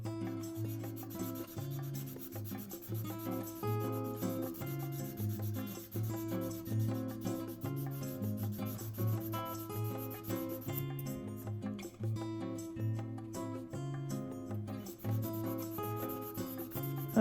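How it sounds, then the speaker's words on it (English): Fine 800-grit sandpaper rubs over the plastic body of an Estes Gemini Titan model rocket in a continuous, quiet back-and-forth scratching that runs throughout without talk. "So just keep sanding until that dark line disappears."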